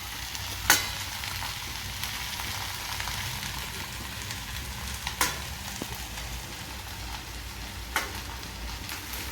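Coarsely crushed peanuts sizzling and crackling as they are stirred through hot fat in a frying pan, with a steady frying hiss and a few sharp scrapes of the spoon against the pan.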